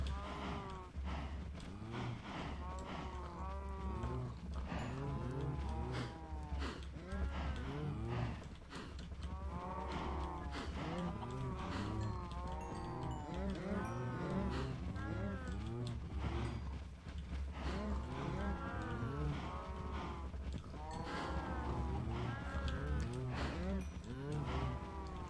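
Cows in Minecraft moo over and over, overlapping calls from a large herd repeating in bursts across the whole stretch, fairly even in loudness with no pauses between groups.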